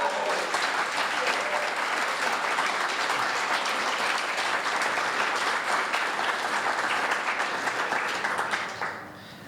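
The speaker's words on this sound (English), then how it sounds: "Can we have another round of applause for Jo?" An audience gives a round of applause for a speaker at a crime-writing event, sustained and full for about eight seconds before tapering off quickly into quiet.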